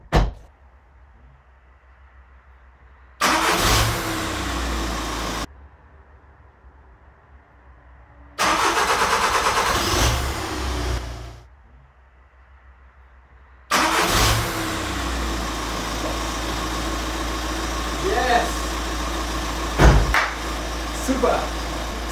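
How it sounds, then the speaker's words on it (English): A VW Caddy diesel engine is started after a glow plug change: short cranking bursts catch and settle into a steady, close, loud idle with some rattle, and a few faint knocks and clicks sound over it. "So now I'm gonna start the engine."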